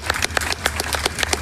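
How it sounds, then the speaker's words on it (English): A live audience at a speedrunning event at PAX West claps, steady rapid hand claps from a crowd filling a large room over a low hum. "Can we get some clapping for that super slide"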